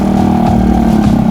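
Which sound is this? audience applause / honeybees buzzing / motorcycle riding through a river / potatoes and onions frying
motorcycle riding through a river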